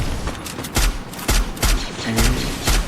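Gunfire in the battle-royale video game Free Fire, including sniper shots: a run of about six sharp, heavy reports at uneven intervals over a noisy, busy background, with no talking.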